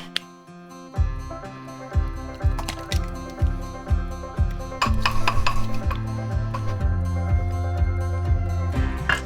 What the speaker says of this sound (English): now I can mix the wet with the dry